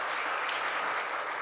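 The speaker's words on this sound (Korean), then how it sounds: "자, 우리 축하한다고 박수 보내세요." A church congregation at a Sunday worship service applauds in a brief, steady wash of many overlapping claps, heard fairly faint and from a distance.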